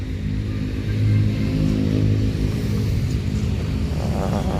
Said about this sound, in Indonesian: Ini Sinar Jaya Jetbus 3 91 DX serinya.